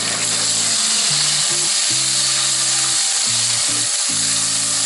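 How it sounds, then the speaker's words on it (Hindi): Finely chopped tomato fries with mixed vegetables in a pan for a dhaba-style mix veg dish, a loud, steady close sizzle with some stirring, with no voices. "इसको हल्का सा फ्राई कर लेंगे। तमाम चीज़ों को एक साथ भून लेंगे।"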